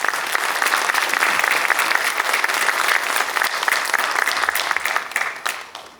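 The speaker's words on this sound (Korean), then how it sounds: "많은 박수 부탁드립니다." An audience at a community presentation on using a neighbourhood park's underground space gives steady, full applause for a guest speaker, loud and dense throughout before tapering off at the end.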